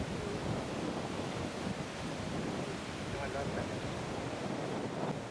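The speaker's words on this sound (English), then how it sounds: "Wind is certainly picking up now, hopefully not interfering too badly." Wind gusts across an open hilltop field around 455 feet up, a steady broadband rush buffeting the microphone for the whole stretch, fairly loud and unbroken.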